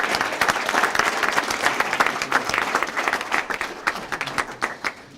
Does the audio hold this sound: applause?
yes